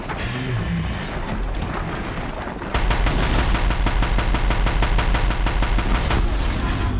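Rapid automatic weapon fire in Horizon Zero Dawn, a long loud burst of evenly spaced shots that starts abruptly partway through after a stretch of game ambience, close and steady with no talk.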